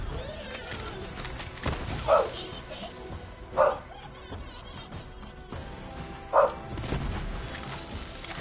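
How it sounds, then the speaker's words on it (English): A dog in the video game Borderlands 3 barks three times, well spaced, each a short clear bark standing out over game ambience and background noise. "I don't know what you're barking at."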